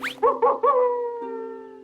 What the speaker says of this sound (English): he saw a dog lying on the road, howling